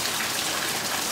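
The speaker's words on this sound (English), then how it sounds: "The rain, the falling rain, the hard falling rain." Hard summer storm rain pours down in a steady, dense wash of drops striking surfaces, loud and continuous with no pauses or voices.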